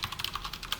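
Rapid typing of code on a computer keyboard, a quick run of light, evenly spaced key clicks, close and fairly quiet with no talking.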